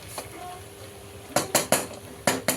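Noodles being stirred in a cooking pot, a quiet stretch followed by several sharp metallic clanks and scrapes of a utensil against the pot in a loose rhythm.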